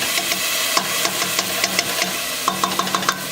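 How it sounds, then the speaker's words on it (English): Minced garlic, onion and oil sizzling in a pan for a keto roasted cauliflower soup, a steady frying hiss broken by scattered stirring clicks and scrapes, no voices. "also add 2 cloves of minced garlic to the onion and oil"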